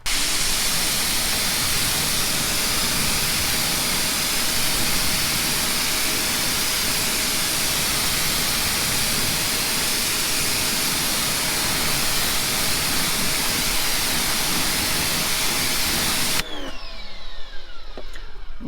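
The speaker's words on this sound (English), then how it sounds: "Now with the pressure washer, we're gonna rinse down the entire wheel." A pressure washer rinses an Alfa Romeo 4C car wheel with a loud, continuous hissing spray that runs for most of the clip before cutting off abruptly near the end.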